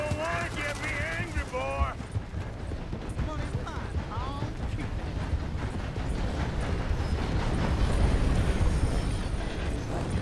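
A train rolling along in the video game Red Dead Redemption 2, a dense continuous rumble and clatter that swells slightly toward the end, with hoofbeats and someone speaking over it.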